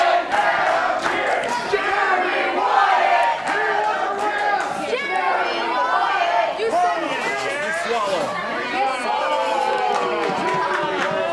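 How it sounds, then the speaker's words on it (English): Loud crowd of wrestling fans chanting a wrestler's name at a 3XWrestling Midwest show, a steady dense roar of massed voices with rhythmic shouted phrases and cheering throughout. "Crowd now chanting Jeremy Wyatt."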